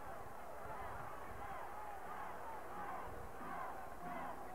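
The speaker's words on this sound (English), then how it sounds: "This Indiana crowd is imploring his team to get moving." A packed Assembly Hall crowd of Indiana Hoosiers fans at a 1981 college basketball game against Iowa keeps up a steady, dense roar of many voices, swelling now and then into louder surges of urging.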